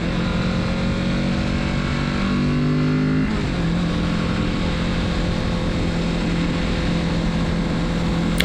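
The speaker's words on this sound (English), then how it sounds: "Alright, let's get some revs." A 2024 Kawasaki Z650RS motorcycle engine revs loud and close on a road near Reno, a steady high drone shifting pitch midway as revs rise toward 7,000 RPM, with no talking over it.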